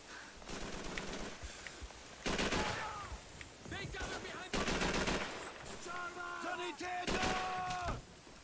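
Gunfire in the video game Call of Duty 3 rattles in loud automatic bursts separated by brief lulls, with game tones and other effects mixed in and a voice speaking at points.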